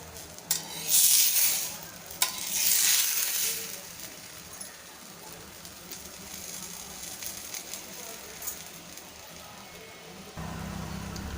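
A puran poli flatbread roasts on a griddle over medium heat, with two louder bursts of sizzling and scraping early on that then settle into a steady, quieter sizzle.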